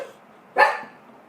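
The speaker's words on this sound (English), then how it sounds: "Why are you barking, girl?" A single sharp dog bark, close and fairly loud, standing out against a quiet background.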